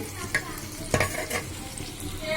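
Spices tossed over a whole chicken roasting in hot oil for morog musallam, a steady crackling sizzle with a few sharp scrapes and clinks from stirring, close and continuous.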